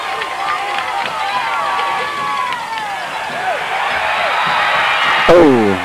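A high-school football crowd roars and cheers after a short field goal attempt, a broad sustained swell of voices and whistles, with a loud burst near the end and an announcer talking over it.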